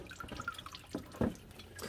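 Coolant drips and trickles while a Toyota Tacoma cooling system drains, faint scattered drops with a couple of louder plops, close and quiet with no talking.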